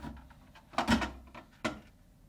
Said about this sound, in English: remove the 2 side plates by first lifting up on the front to release the retaining tab, then slide out to remove.